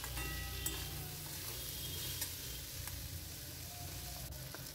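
Small puti fish fry in a pan with a constant close crackling sizzle, punctuated by occasional faint ticks.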